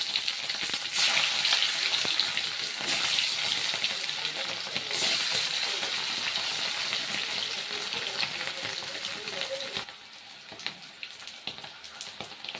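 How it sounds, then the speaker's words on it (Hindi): Potatoes frying in hot oil make a loud, dense, hissing sizzle close to the pan, with a few clinks as they are stirred. Toward the end the sizzle settles lower, and no one speaks. "डाल दीजिए आलू"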